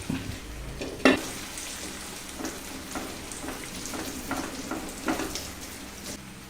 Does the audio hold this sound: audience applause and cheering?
no